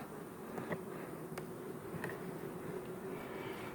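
A steady, fairly faint drone of honey bees buzzing, with individual bees passing closer now and then.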